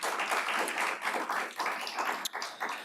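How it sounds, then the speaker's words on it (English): Audience at a county executive's budget address giving a round of applause, steady moderate clapping throughout, no speech. "So if you could give them a round of applause."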